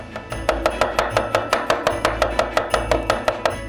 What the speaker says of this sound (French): Et on les coupe en rondelles.